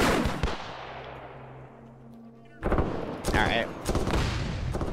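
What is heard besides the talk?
gunfire in Arma 3 video game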